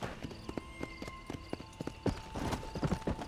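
Horse hooves clip-clop in the Red Dead Redemption video game, a steady rhythmic series of sharp hoof strikes over a faint steady tone, building slightly toward the end.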